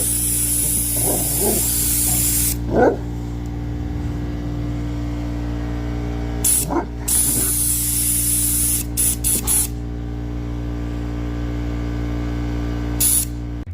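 Steady hiss of a pressure washer spraying in a cold outdoor setting while a cross member is cleaned during an LS engine swap into a 1982 Cadillac DeVille, continuous and fairly loud with a few brief breaks in the spray.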